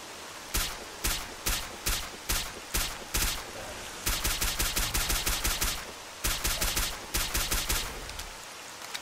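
Gunfire from a weapon in the S.T.A.L.K.E.R. Call of Pripyat video game, with a loud single shot and then sharp bursts of rapid automatic fire in uneven groups, clear and close, with no talking.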